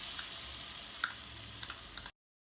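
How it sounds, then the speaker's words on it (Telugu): Masala frying in butter and oil for butter chicken, a soft continuous sizzle with a light clink or two, cut off abruptly before silence, no speech. "ఫ్రై చేసుకుందాం."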